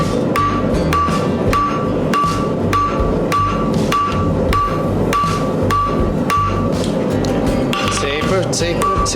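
Blacksmith hammering to taper the tip of a forged metal hair stick, evenly spaced sharp ringing hammer strikes on an anvil, loud and close, about a dozen blows in steady rhythm.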